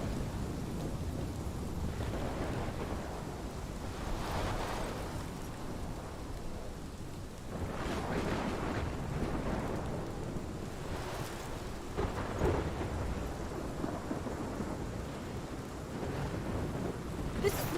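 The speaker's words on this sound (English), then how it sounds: "This is my storm." Thunderstorm with steady heavy rain and wind from the video game Life is Strange, rumbling thunder swelling and rolling several times over a constant loud downpour, with no voices.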